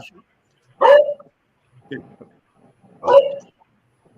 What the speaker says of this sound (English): We can hear the dog too.